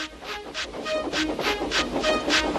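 A steam tank engine in a Thomas the Tank Engine remake chuffs in a steady, even rhythm of hissing puffs, loud and close, with a faint rail rumble beneath.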